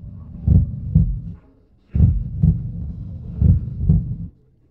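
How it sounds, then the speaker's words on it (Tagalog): Fast heartbeat sound effect, a series of deep, thumping double beats in steady pairs, loud and close with no voices over it. "Bakit laging mabilis ang tibok ng puso ko?"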